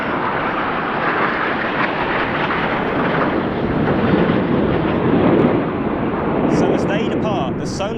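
Frecce Tricolori solo display jet from the Italian aerobatic team at an air tattoo, flying low over trees then pulling vertical: a loud, sustained roaring rush that swells in the middle.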